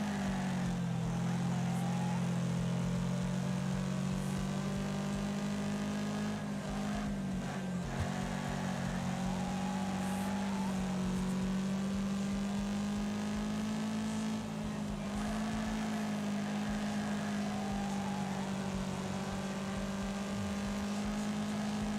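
A race car engine in the video game Wreckfest holds a steady, droning mid-revs whine with faint shifts in pitch, running on and on for over twenty seconds with no speech.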